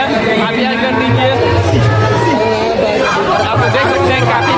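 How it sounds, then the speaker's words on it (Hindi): Dense crowd chatter at a Mahashivratri temple festival, many overlapping voices forming a loud, continuous babble close around, with no single speaker standing out. "आप देख सकते हैं काफ़ी भीड़ है।"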